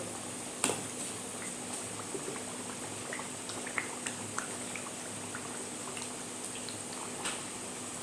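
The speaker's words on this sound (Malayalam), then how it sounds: "അപ്പം നമ്മുടെ എണ്ണയൊക്കെ നന്നായിട്ട് തിളച്ച് തുടങ്ങുന്നുണ്ട്." Homemade hair oil in a pan on low heat starts to boil, a quiet continuous bubbling with scattered small pops and clicks.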